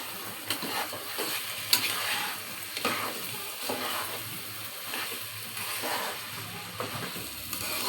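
Beef biryani with rice being stirred in a pot after frying in mustard oil, a steady close sizzle broken by repeated scraping stirs and occasional louder clinks against the pot.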